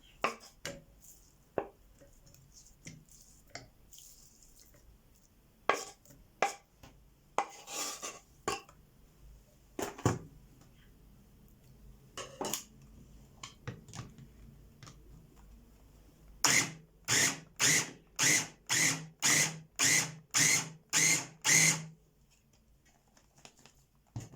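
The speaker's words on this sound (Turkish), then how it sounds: "Şimdi rondoya koyup güzelce kıyma şeklini aldıracağız." Scattered clatters and taps, then a run of about ten short, evenly spaced motor pulses as a food processor minces chicken in quick bursts.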